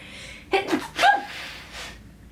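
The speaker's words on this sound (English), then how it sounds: "Nope, I'm gonna sneeze." A single close, abrupt sneeze with a sharp gasping intake just before it, followed by a short breath in an otherwise quiet room.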